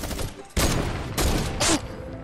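Loud bursts of gunfire in a video game, three dense volleys of rapid shots in quick succession, close and harsh, with no voices over them.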